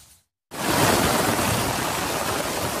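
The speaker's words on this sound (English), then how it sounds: "Overnight, torrential downpours in New York." Heavy, torrential rain pours down during a fall nor'easter in New York, a dense, loud, continuous roar that starts abruptly after a brief silence.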